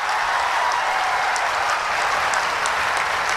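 A crowd gives steady, thunderous applause at a religious gathering honouring a revered Hindu guru, the dense clapping loud and continuous throughout with no break.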